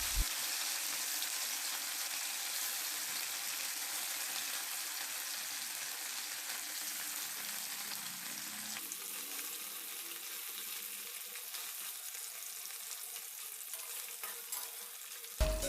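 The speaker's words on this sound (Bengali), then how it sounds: "তেল গরম হয়ে গেলে এক এক করে মাছগুলি দিয়ে ভেজে নেব।" Small mourola fish fry in hot oil in a wok, a dense, even sizzle lasting throughout that softens slightly partway, close and steady with no talking.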